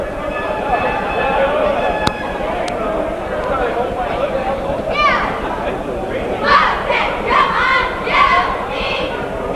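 Bobcats fans cheer at a junior varsity boys basketball game, a dense crowd roar with scattered shouts and whoops that rise in bursts toward the end, with voices mixed into the din.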